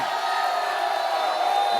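A church congregation cheers and shouts for joy, a continuous loud mass of voices and whoops that swells slightly toward the end.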